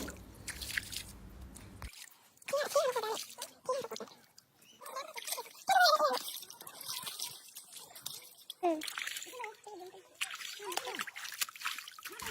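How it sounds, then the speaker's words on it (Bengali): Potatoes being washed by hand in a shallow hill stream produce close, irregular splashes, squishes and dribbling water, with people talking intermittently over the sloshing. "এই এখন আলুগুলো ঝিরিতে ধুয়ে পরিষ্কার করে নিব"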